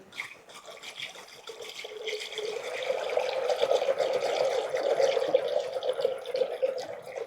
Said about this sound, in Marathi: मी आता हे डायरेक्ट रवीन घुसळते पाणी टाकून